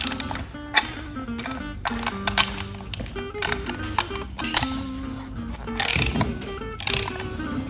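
A steel beam clamp is adjusted and loosened off at close range, giving a series of metallic clicks, ratcheting and clinking knocks spread irregularly across the span.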